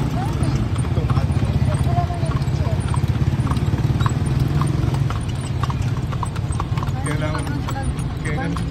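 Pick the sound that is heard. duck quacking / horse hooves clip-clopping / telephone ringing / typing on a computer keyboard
horse hooves clip-clopping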